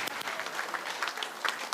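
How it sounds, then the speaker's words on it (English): A wedding reception crowd claps for the mother and the groom, a dense, steady burst of many hands clapping at moderate distance with a few scattered sharper claps. "round of applause for the mother and the groom"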